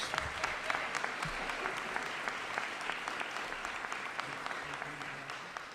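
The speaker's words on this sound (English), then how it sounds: "Let's give our great governor another round of applause" A crowd applauding the New York governor at a Buffalo event, a steady, fairly distant roll of clapping with scattered sharper claps, slowly fading toward the end.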